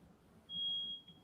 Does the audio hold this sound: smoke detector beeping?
yes